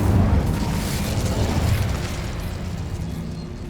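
Incendio fire spell cast in Hogwarts Legacy, a heavy roaring burst of flame with a deep rumble that fades gradually across several seconds, loud and close with no talking.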